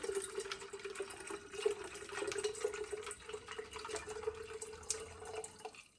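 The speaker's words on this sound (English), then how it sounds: "we're going to go ahead and pour the rest all the way in." Liquid being poured into a container while making basil iced tea, a steady, close, unbroken splashing trickle that runs for about six seconds before cutting off abruptly.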